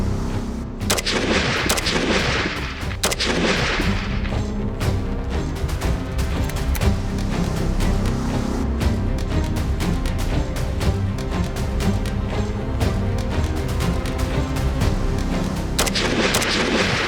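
Heavy gunfire rings out during a military firing test at an international patrol competition, with dense repeated loud shots and crashing reports sustained across the whole stretch, with no talking.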